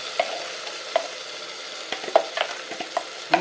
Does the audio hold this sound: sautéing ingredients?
yes